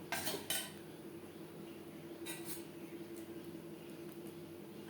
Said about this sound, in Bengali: বেশ ভালো করে মিক্সড করে দেবো